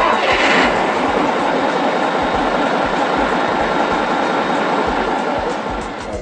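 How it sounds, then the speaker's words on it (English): A rebuilt RNLI lifeboat engine runs up in the workshop after its rebuild, a loud, steady, dense roar with a rapid rhythmic pulse that continues throughout and eases slightly at the end. "all the engines are run up on completion of the rebuild"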